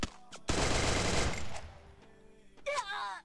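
Shotgun blasts in Garena Free Fire: a sharp burst followed by a dense, decaying roar of gunfire lasting over a second, a few brief pops around it, with a voice speaking near the end.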